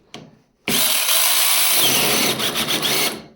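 Cheap 48-volt cordless saw cutting wood under light pressure: a brief motor spin-up, then a loud, close, harsh buzzing grind through the cut with slight wavering and stuttering near the end, no talking.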